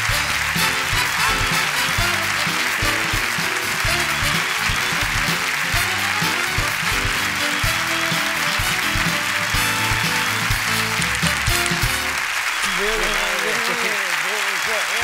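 Studio audience applause at a Spanish television show, a dense, loud, sustained wash of clapping that carries steadily for the whole stretch, with voices faintly mixed in.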